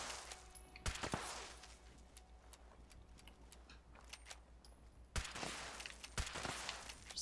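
Faint gunshots in Fallout 76, fired at random spots around a base: a sharp shot near one second, a quiet spell with small ticks, then a cluster of reports from five to six seconds over low hum.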